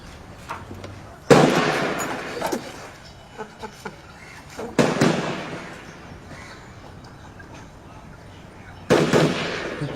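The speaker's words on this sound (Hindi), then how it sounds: "क्या क्या था ये? फायरिंग रेंज है" Gunfire from a nearby firing range: three loud, sharp bursts with long reverberant tails, spaced several seconds apart, with quieter outdoor sounds and faint voices in between.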